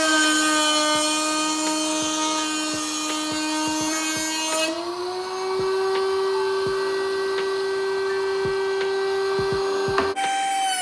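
A woodworking power tool runs steadily with a loud, sustained whine while it cuts the ends and edges of a board for a simple wooden box, and scattered ticks and clicks sound through it. The pitch rises slightly partway through.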